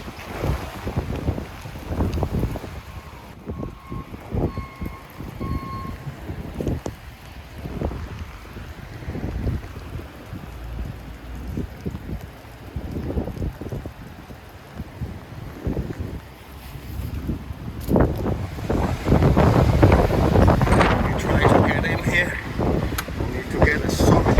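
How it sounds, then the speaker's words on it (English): Strong gusting wind buffets a motorhome during a storm, roaring and rumbling loudly against the microphone in uneven surges that swell toward the end, with no speech over it. "Wind is so strong."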